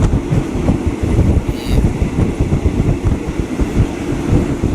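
A train to Nam Tok station in Kanchanaburi, Thailand clatters steadily along the rails, with a dense rumbling rhythm of wheels throughout and no voices.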